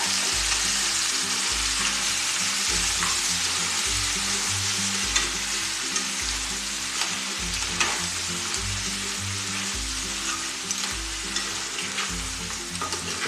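Boiled crab fries in a pan with curry leaves for a coastal Karnataka crab sukka, giving off a constant close, bright sizzle and crackle beneath rhythmic background music.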